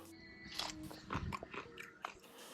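Crunchy apricots picked from under late-November snow are bitten and chewed, giving several crisp crunches up close in a quiet outdoor setting, with no talking.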